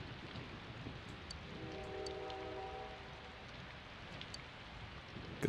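Steady rainstorm from the Persona 4 Golden video game, an even hiss of falling rain throughout with a brief droning horn-like tone in the middle and no speech.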